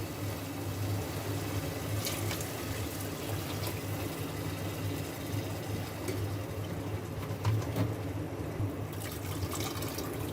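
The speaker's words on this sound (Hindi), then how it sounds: "अब इसके अंदर मैं 2 गिलास पानी की ऐड करूंगी" Water splashes and gurgles steadily into a pot of fried moong dal, a continuous pouring sound close by with a low background hum.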